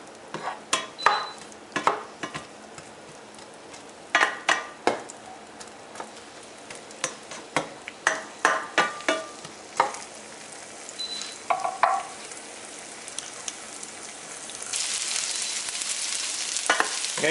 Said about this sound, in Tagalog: igigisa natin hanggang medyo hindi naman kailangan maging golden brown ito